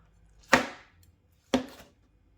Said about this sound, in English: Next up, the tomatoes, give them a wash first, and again just chop these up into fairly small pieces.